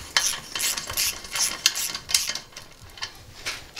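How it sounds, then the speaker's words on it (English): A spanner loosening the 12mm clamp bolt on a Royal Enfield 650 twin motorcycle silencer gives close, sharp ratcheting clicks in irregular short bursts, alone without talk. "Now we need to remove just loosen actually the 12mm clamp bolt."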